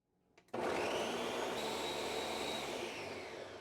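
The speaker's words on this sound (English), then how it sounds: "Now I'm going to blend it." A kitchen blender whirs to life, blending tomatillo salsa verde with water and salt, a loud steady motor roar that starts abruptly after a few clicks and runs on, close by.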